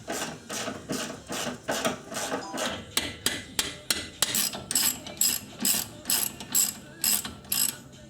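A hand ratchet loosens the top strut mount bolts during a front coilover strut install, clicking in a quick, even rhythm of short bursts, close and crisp with no talk.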